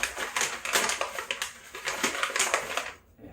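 Paper crumpled close to the mic of an LG V50S ThinQ phone with its ASMR feature off: a dense, continuous crackle for about three seconds that stops abruptly.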